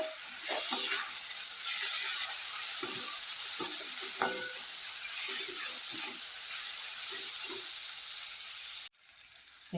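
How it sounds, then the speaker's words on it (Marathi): Cluster beans sautéing in hot oil with onion and tomato give a steady close sizzle, with scraping stir strokes throughout and a cut near the end. "तेलात चांगली परतून घेतलेली आहे"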